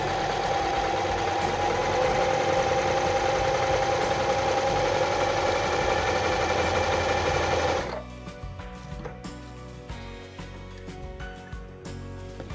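A Janome 381 sewing machine runs a zigzag stitch in a fast, steady mechanical whir that stops abruptly partway through, leaving faint quiet clicks and handling noises.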